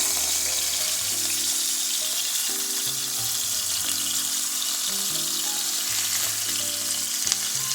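Beef pinwheels sear in a frying pan with a constant loud sizzle, while faint tonal sounds play steadily underneath.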